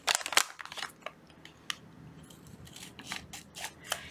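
Scissors cut through an Italian coffee bag close up, with crisp, irregular snips and crunches, some sharp and loud and others quieter, and short pauses between them.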